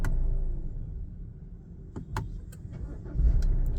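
A Hyundai Tucson is switched off: a low engine rumble fades, followed by a few sharp clicks and knocks of the ignition and cabin, then a brief low thump near the end.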